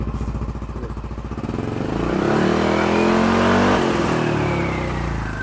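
A Yamaha Aerox 155 scooter with an imported aftermarket exhaust revs up from idle to a loud, sustained high engine drone and then eases off slightly, close by and heard alone.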